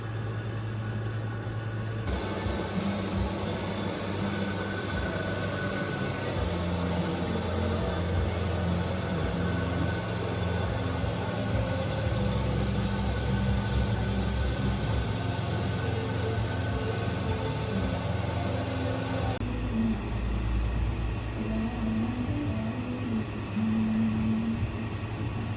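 Mash pump running during beer brewing, a continuous loud mechanical whir and hum that holds steady throughout, its tone shifting slightly near the end.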